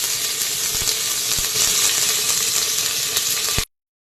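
Crushed small shallots hit hot oil in a pan for a chicken pepper rasam, setting off a loud, steady, bright sizzle that holds evenly for over three seconds before cutting off, with no talking.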